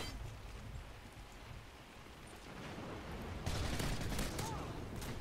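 Gunfire in the video game Modern Warfare 2, a dense burst of rapid shots that swells loud and close in the second half over a rumbling, noisy background.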